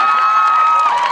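An audience cheers and applauds in a brief, steady wash of crowd noise with some high shouts, loud and close throughout.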